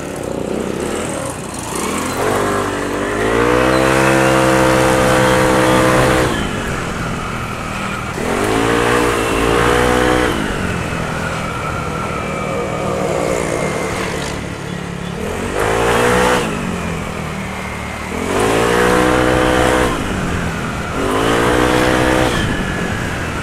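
A Yamaha Aerox scooter with its engine upgraded from 155cc to 195cc revs up repeatedly, the engine climbing in pitch through several loud bursts and falling back between them, close and steady with no talk.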